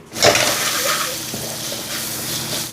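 Onions, chillies and spice powders sautéing in a pan for fish chukka, a steady close sizzle with light stirring scrapes over a few seconds.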